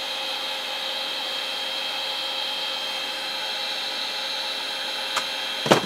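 An M18 cordless hair dryer blows hot air to soften labels for peeling, a steady whirring fan and rush of air that holds constant, with two short sharp knocks near the end.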